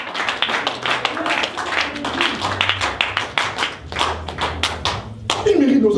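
A church congregation claps and cheers, many hands striking in a fast, irregular rhythm close by, with voices calling out underneath and a louder swell at the end.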